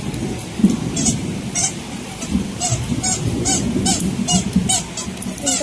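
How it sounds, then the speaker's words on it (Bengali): Heavy rain pours steadily during a thunderstorm, with loud honking geese calling repeatedly over the downpour. "আমাদের এখানে প্রচণ্ড জোরে বৃষ্টি হচ্ছে, তার সাথে মেঘ ডাকছে"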